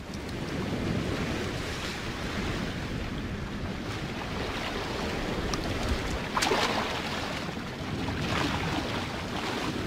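Ocean waves wash continuously along the Galápagos coast, a steady broadband surf roar with a slightly stronger surge near the end and some wind noise, no voices.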